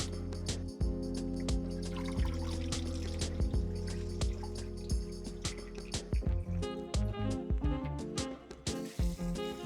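Chicken feet are rinsed under cold running water, with soft dripping, trickling and wet squishing sounds as the feet are handled, close and fairly quiet over a steady low hum.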